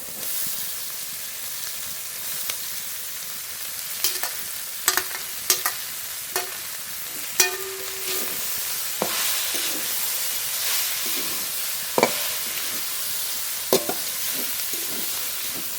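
Chopped kolmi greens are stir-fried with spices, green chillies and fried fish head, giving a steady frying sizzle and hiss, broken by scattered clinks and scrapes of a spatula against the pan.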